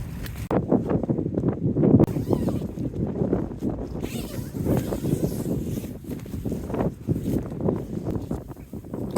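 Gusty wind buffets and rattles a lightweight Black Diamond tent, a loud, continuous rushing flap with surges, heard from inside amid the flutter of fabric.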